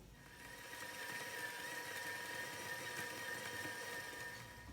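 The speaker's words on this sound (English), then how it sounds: "Our mixer has been going about 3 minutes" A stand mixer creams butter and sugar with a continuous, even motor hum and faint beater whir, moderately quiet and steady with no voices.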